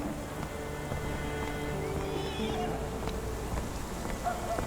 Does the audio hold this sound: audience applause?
no